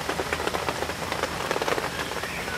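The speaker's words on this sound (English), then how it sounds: "It's raining a bit now." Steady rain patters on a campsite at an outdoor bushcraft show, a dense, even hiss of drops close by with no voices.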